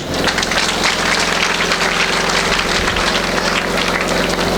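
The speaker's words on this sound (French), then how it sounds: "Vous vous applaudissez vous-même." An audience applauds at a school year opening ceremony, a dense, steady wash of clapping that stays loud and unbroken from start to finish, with a faint low hum underneath.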